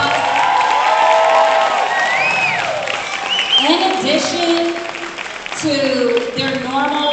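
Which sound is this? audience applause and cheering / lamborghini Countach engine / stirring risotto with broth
audience applause and cheering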